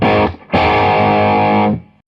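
A Pastfx Canberra overdrive pedal on electric guitar with every knob at noon gives a crunchy, driven tone: a short strummed chord, a brief gap, then a longer sustained chord that rings out and is cut off.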